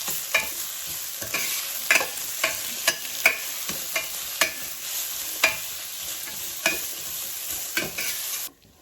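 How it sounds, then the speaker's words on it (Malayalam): Onions with a pinch of salt sauté in a pan for Kerala-style bird's eye chilli chicken: a steady close sizzle broken by regular scraping stirs about every half second, no voices, ending abruptly. "നന്നായി മിക്സ് ചെയ്ത് ഒരു ലൈറ്റ് ബ്രൗൺ കളർ ആവുന്നവരെ നമുക്ക് വഴറ്റിയെടുക്കാം"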